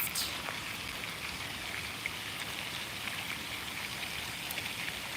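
Small fountain in a Vancouver Island forest, a soft continuous splash and trickle of running water heard steadily from nearby.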